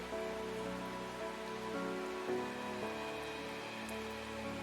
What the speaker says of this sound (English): Is the rain and the frog sounds in the music or the game?